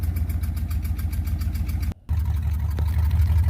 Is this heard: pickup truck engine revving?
yes